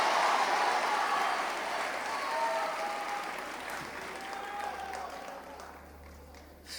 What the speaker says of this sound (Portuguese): Se é para Jesus, aplaude com força, irmão. Bota pressão nessas palmas aí.